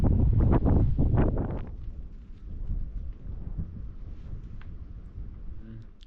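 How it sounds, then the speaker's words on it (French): Deep rolling thunder from an approaching storm near Ollagüe volcano booms through the first seconds, then a steady hiss of rain and wind carries on as the rumble fades. "Il y a un passage orageux qui arrive droit sur moi."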